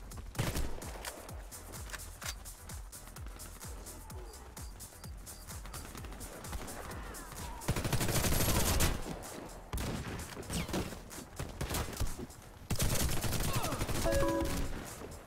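Video game gunfire aimed at friendly allies rattles in rapid, repeated bursts, with dense automatic volleys swelling loud at intervals amid lighter single shots.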